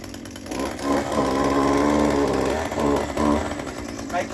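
A small gas-powered drill engine used for termite bait installation runs steadily after a cold start with the primer bulb, a buzzing two-stroke drone that holds under nearby background noise.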